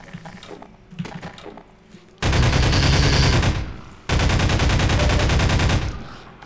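Loud automatic weapon fire in Half-Life 2, two long sustained bursts separated by a short pause, following quieter clatter and game sounds.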